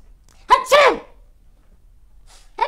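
A person lets out a loud, sharp sneeze up close, followed by quiet and the start of another sneeze at the very end.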